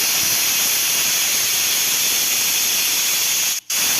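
A pressure cooker of radish sambar blows a sustained, loud steamy hiss for several seconds. The hiss breaks off abruptly near the end and quickly resumes, with no talking.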